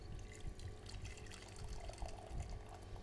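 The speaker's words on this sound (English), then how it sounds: "I'm going to add 200 ml of the water" Freshly boiled water, left to cool for about a minute, is poured from a kettle into a teapot for green tea, a soft continuous trickling and splashing stream heard faintly, without speech.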